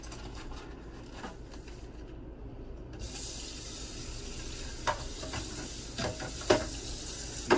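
Water running from a sink tap, starting as a soft hiss and turning into a louder steady splashing stream after a few seconds, with a few small knocks and clatters nearby.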